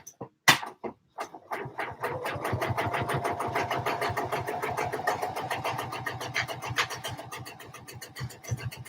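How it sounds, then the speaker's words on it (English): A sewing machine topstitches the outside of a bag, running in a fast, even mechanical rhythm of needle strokes for several seconds after a couple of short starting bursts, close and clear with no talk. "So we top stitch the outside of the bag."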